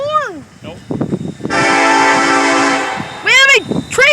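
A train horn sounds in Elkhart, Indiana: one long, loud, sustained blast in the middle, with people talking before and after it.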